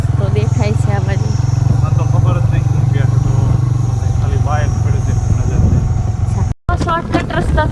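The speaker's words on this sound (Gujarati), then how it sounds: "શોર્ટકટ રસ્તાથી ફાઇનલી હસબન્ડજીએ ઉપાડી દીધી છે બાઈકને હાઈવે ઉપર" A motorcycle engine drones steadily as the bike rides onto a highway, loud and close beneath a person talking, then the drone thins out after a few seconds while chatter continues.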